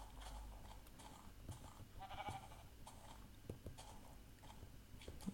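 Sheep bleats from Minecraft Pocket Edition come as a few short, faint calls over quiet game ambience and scattered clicks, with no talking.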